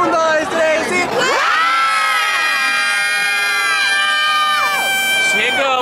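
A Halloween party crowd yells together in one loud, sustained group shout after a count, cheering and whooping in unison for several seconds before breaking into scattered voices.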